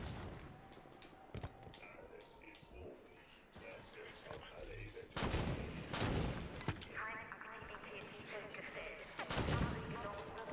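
Gunfire in the video game Halo 5: Guardians: scattered sharp shots and a few louder bursts over game ambience, with someone talking now and then between them.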